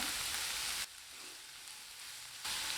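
Onions sizzle steadily in hot oil, a close continuous crackling hiss that dips quieter for a moment before returning, no voices.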